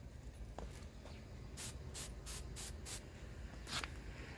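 Clear coat is sprayed from a can onto aluminum motorcycle brake levers in a few short, soft hissing bursts against a quiet background.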